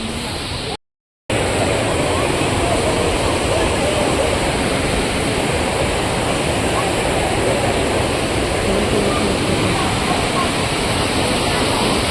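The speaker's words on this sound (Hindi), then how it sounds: "सामने आपको झरना दिख रहा है" A waterfall rushing beside a mountain pilgrimage trail, a loud continuous roaring wash that fills the stretch, broken once by a brief cut near the start.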